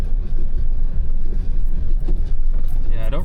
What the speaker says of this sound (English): I don't really get out to do any sort of wheeling or dirt road driving on the Tundra as often as I should